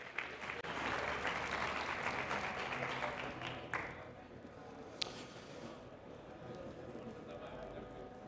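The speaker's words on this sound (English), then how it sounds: "Big applause for Ion." Audience applause at a startup conference stage, a dense wash of clapping that holds steady and then thins and fades, heard from within the crowd.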